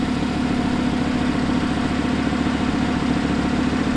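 An Audi R8 with a V10 engine and all-wheel drive idles steadily nearby, a smooth, even low rumble with a constant hum and no talking.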